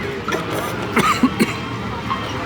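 A few short coughs and throat-clearing sounds, close by and fairly loud, in a brief cluster, on a Dover to Calais ferry crossing.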